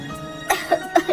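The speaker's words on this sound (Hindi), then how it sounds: "बुरी तरह से खांस रही थी" A woman coughs badly, a run of four harsh, separate coughs close to the listener, spaced roughly a quarter-second apart over a low background hum.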